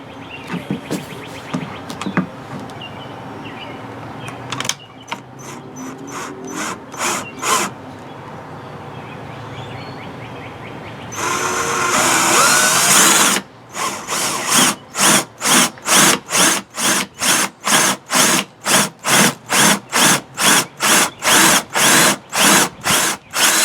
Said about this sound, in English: Trying to drill slow so I don't blast right through the other side of the can.